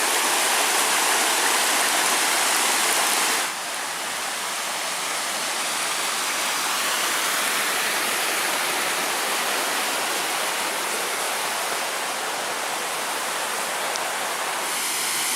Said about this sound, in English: Here along the trail we have a stream with cascading falls.